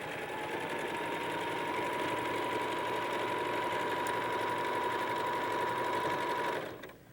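Sewing machine running a steady, continuous stitch along a quilt seam in white thread, a close mechanical whir with a constant hum that holds for several seconds and then stops.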